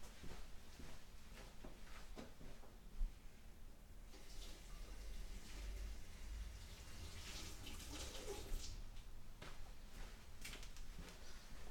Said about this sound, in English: let me clean the sponge